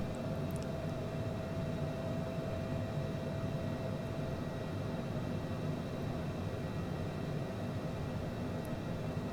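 Cessna Citation CJ4 jet on approach in Microsoft Flight Simulator 2020, a steady, even cabin roar with a faint constant whine, unchanging throughout with no talk.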